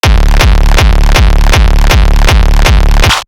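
A hardcore kick drum with soft clip saturation pounds in a fast, even run of about eight loud, distorted hits, each with a booming low tail, ending abruptly.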